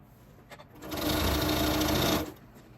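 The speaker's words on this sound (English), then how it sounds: "Now I'm just going to keep sewing these end to end" A sewing machine stitching quilt strips end to end, a steady fast whirring run of about a second and a half that starts and stops abruptly, close and alone.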